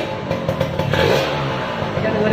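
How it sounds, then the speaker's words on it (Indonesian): A Kawasaki Ninja 150 two-stroke motorcycle with a leaking exhaust idles and revs up close at night, with a raspy, clattery engine note and rising revs throughout. "Kita dengerin suara mesinnya."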